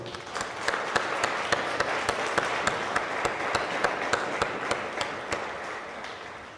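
Sustained audience applause fills a ceramics and glass award ceremony, a dense, steady wash of many hands clapping at close range from start to finish.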